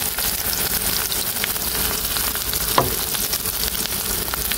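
Onion fries in oil for a fish curry, a continuous close sizzle and crackle with a single sharp knock of a utensil midway, no voices.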